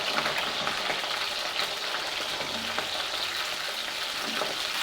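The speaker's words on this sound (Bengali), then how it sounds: "এবার এই তেলে আমি দিয়ে দিব ফুলকপিগুলোকে" Cauliflower florets fry in hot oil with a steady, dense sizzle throughout, broken by faint crackles and spits, close and fairly loud with no voice over it.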